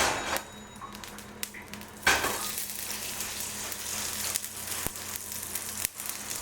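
Lard spread around a hot pan for warming tortillas sizzles in a steady, close hiss, with a few sharp clinks and scrapes of utensils against the pan.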